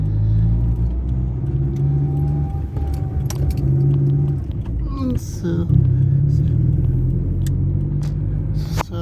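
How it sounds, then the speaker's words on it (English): Steady road traffic rumble from inside a moving car driving through Halifax town streets, loud and continuous with engine drone, a jangle of keys and someone talking briefly over it. "I was expecting less traffic"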